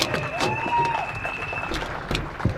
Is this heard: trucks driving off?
no